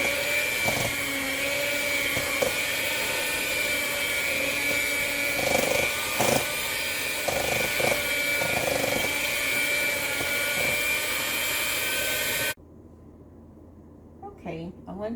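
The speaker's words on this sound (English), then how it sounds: "So I won't show all of this because of the sound of the mixer" Electric hand mixer whipping butter for coconut mango muffins, a steady loud whirring drone lasting about twelve seconds before cutting off abruptly, followed by quieter room sound.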